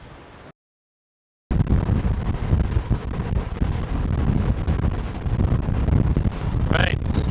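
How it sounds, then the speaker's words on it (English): Strong 30-knot gusty wind buffets the microphone on a sailboat in a steady, roaring rush after a brief cutout, with gusts swelling and fading and no talking. "we found ourselves in 30 knot gusts of wind"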